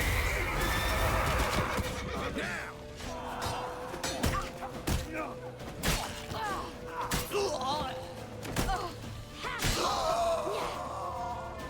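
Horse neighing and whinnying in The Witcher 3, several loud calls rising over a busy game soundtrack with thuds and clip-clop, while voices shout over it.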